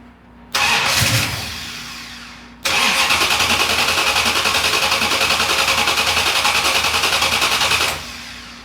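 Chrysler 440 V8 with a Holley carburetor cranks briefly, pauses, then fires and catches into a loud, steady lumpy idle close by before shutting off.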